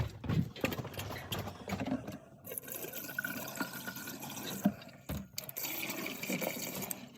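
RV antifreeze glugging from a jug down camper drains, a steady close pour of liquid with brief gaps and gurgles, loud and uninterrupted by talk.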